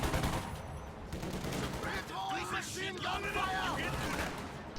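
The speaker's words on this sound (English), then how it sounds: "The BAR will be firing at those Panzer Grenadiers" Automatic BAR fire from a World War II strategy game, aimed at German Panzer Grenadiers, crackles in dense bursts amid a busy mix of other gunfire and battle noise, with a voice talking over it throughout.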